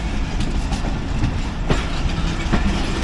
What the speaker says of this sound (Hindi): 42 टन काराकोरम एक्सप्रेस लाहौर से रवाना हो रही है।